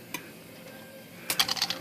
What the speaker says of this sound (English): Let's pull the ribbon off here.